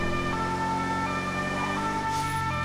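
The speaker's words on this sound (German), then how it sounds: "Sie können die Sirene ausmachen, Herr Sancho" Police car siren in the GTA 5 video game wails steadily during a chase, a loud sustained tone over constant engine and road rumble, with no talking.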